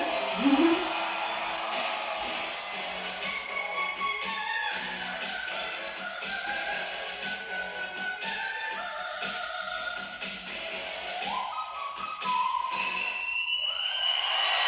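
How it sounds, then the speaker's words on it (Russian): Shrill whistle tones rise and slide against a busy, noisy background, repeating in varying pitches, fairly loud throughout. "Свисточек."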